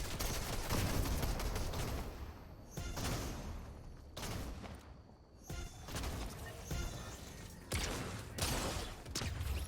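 Rapid bursts of gunfire from Fortnite Zero Build, loud clustered volleys broken by brief gaps, with crashing impacts mixed in and no talk.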